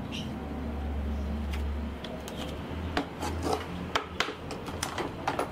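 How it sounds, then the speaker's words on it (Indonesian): A power drill with a hole saw whirs steadily, then gives way to scraping and grinding against acrylic with sharp clicks and knocks. "Buat ngebor akrilik juga gampang"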